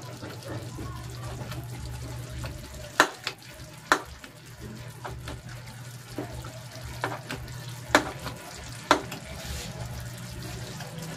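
Rosemary chicken legs simmer in chicken broth in a pan, a steady low bubbling and sizzle with several sharp clinks of a utensil or lid against the pan.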